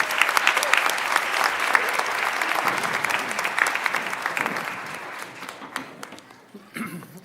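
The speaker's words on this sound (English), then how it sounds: "Let's give them another round of applause." Audience applause at a Board of Education meeting, a dense wash of many hands clapping that stays loud for several seconds, then thins out and fades near the end, with a brief late burst.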